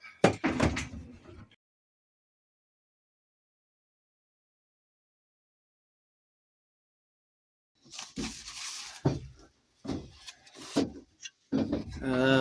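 A wooden cabinet door on a boat's dry locker clunks and rattles open and shut in short bursts, separated by a long silence, while people talk nearby.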